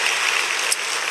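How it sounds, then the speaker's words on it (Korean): Church congregation applauding during a Sunday service, a steady wash of many hands clapping together without a break, heard alone with no speech. "자, 우리 박수로 한번 뜨겁게 맞아주시기 바랍니다"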